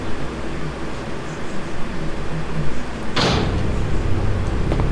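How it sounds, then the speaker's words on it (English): A door opens in the Resident Evil 3 game, a single sharp creak and thud rising over a steady hum of background noise, followed by a deeper rumbling tone. "Okay, we can go through this door."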